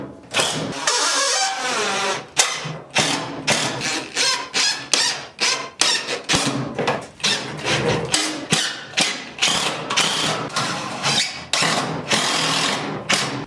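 A power drill drives screws into wood while a headboard is assembled from an old door, repeated whirring bursts that rise and stop in short cycles, close and loud, with no talk.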